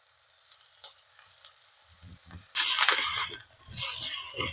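Vegetables lightly fried in a pan are stirred with salt and turmeric, with faint scraping and soft clinks giving way to a sudden loud sizzle that stays bright and steady, broken by small stirring knocks.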